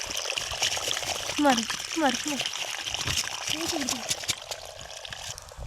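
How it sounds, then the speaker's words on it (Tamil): Water gushes steadily like a small waterfall over a dam, a constant rushing wash heard close by while children chatter and call out over it. "பார்த்தீங்களா फ्रेंड्स இந்த கோமாளி फ्रेंड्स. கெட்டிங்களா பாருங்க फ्रेंड्स அருவி மாதிரி ஊத்துது"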